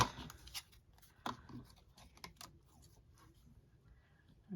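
Scissors snip through junk-journal paper in a handful of short, irregular cuts, close but quiet in a still room.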